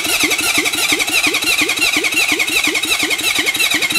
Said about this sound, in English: we'll give it some fuel and see if we can get this engine to turn over and run